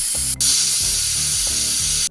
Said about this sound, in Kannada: ಈಗ ಕುಕ್ಕರ್ ಮುಚ್ಚಿ ಕುಕ್ಕರ್ಗೆ ಕೆಲಸ ಮಾಡ್ತಿದ್ವಿ. 2 ಸೀಟಿ ಆಗೋ ಮಟ್ಟ ಬಿಡಬೇಕು.